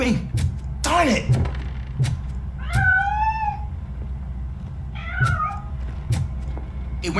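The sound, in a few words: cat meowing in a video game (RoboCop: Rogue City)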